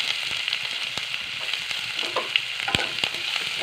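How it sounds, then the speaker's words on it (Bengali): Chopped garlic, green chillies and ginger frying in hot white oil, a constant dense sizzle and crackle with a few stirring knocks, close and unbroken, no voices. "তেলটা গরম হয়েছে এর মধ্যে দিয়ে দেবো রসুন কুচি কাঁচা লঙ্কা"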